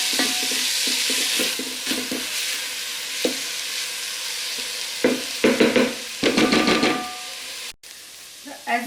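Onions frying in a pan until golden, a steady close sizzle with occasional stirring scrapes and clatters, the frying hiss continuing throughout and briefly cutting out near the end.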